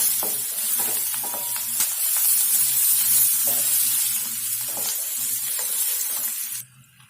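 Curry leaves, coriander and turmeric being stirred into drumstick sambar give a steady sizzling hiss with scattered clinks and scrapes of a spoon against the pot, close and continuous, then cutting off near the end with no talking.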